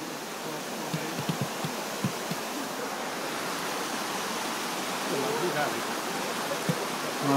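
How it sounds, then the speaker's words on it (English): A waterfall pours in a constant broadband rush, steady and fairly close, with faint footsteps or knocks near the start and a voice now and then. "Nice waterfall."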